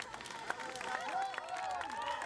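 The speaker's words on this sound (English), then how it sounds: "Cheered on by the large crowds on the banks of Lake Zurich" A large crowd on the banks of Lake Zurich cheers and claps triathletes coming out of the swim at Ironman Zurich, with steady, moderately distant applause.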